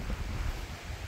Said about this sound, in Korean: 지금 바람이 엄청 많이 부는데요.